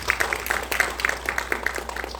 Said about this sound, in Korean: 깊이 있는 발표를 해주신 우리 이주원 대표님께 다시 한번 큰 박수 부탁드리겠습니다